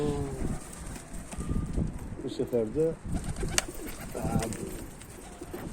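Pigeons coo repeatedly at close range in a rooftop loft with a brief burst of wing flapping, while someone talks over them in Turkish.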